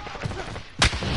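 Gunfire in a fast online shooter: a sharp, loud shot cracks out near the end against a busy, rumbling game background with scattered softer thumps earlier.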